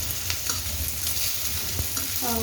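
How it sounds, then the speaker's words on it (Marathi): Pieces of ivy gourd (tondli) stir-fry on a high flame, a bright continuous sizzle with scraping stirs and a few quick utensil clicks against the pan. "एक मिनिटभर छान फास्ट गॅस करून त्याच्यावर तुम्हाला परतून घ्यायचं"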